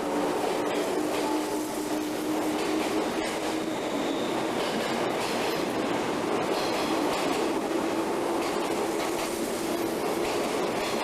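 A JR Kyushu 415 series twelve-car rapid train runs steadily on the Kagoshima Main Line, its continuous loud rumble carrying faint rhythmic wheel clatter for the whole stretch, with no voices.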